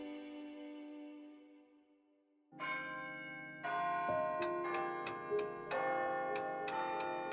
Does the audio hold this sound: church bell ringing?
yes